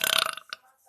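A girl lets out a loud, rattling burp that pulses rapidly for about half a second and then trails off into quiet.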